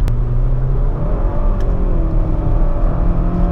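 An Audi A5 engine runs loud and close with a steady rumbling drone, the pitch shifting slightly as it idles on its own.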